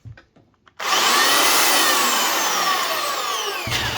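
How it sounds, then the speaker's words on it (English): A belt sander fitted with a new belt starts up after a brief quiet moment and runs alone as a loud, steady whir with a high frictional hiss. The noise cuts out just before the end. "we just want to try it and check that the belt runs okay and there's nothing wrong with the sander"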